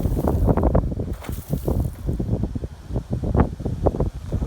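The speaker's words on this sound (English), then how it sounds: "You can probably hear the wind." Gusty wind blows across an open farm field with trees and a fence row nearby, a loud, continuous buffeting roar against the microphone that rises and falls in uneven gusts throughout.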